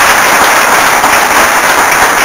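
A live studio audience on a talk show breaks into loud, dense applause. The sustained clapping is close and continuous, with no voices over it.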